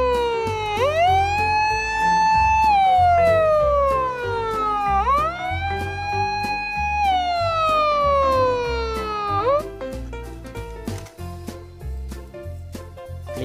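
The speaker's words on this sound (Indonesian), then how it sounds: "Ini mobil patroli pemadam kebakaran." Wailing two-tone fire patrol car siren, loud and close, rising and falling in long sweeps over an underlying drone, cutting off near the end.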